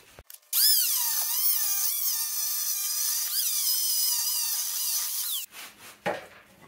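A power tool cuts off a freely spinning nut on a utility trailer, giving a loud, continuous, high-pitched whine that wavers in pitch for about five seconds and then stops, followed by a few scraping knocks.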